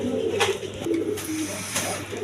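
A pair of red Denis pigeons gives soft, repeated cooing, low throaty calls that roll on close by with no talk over them.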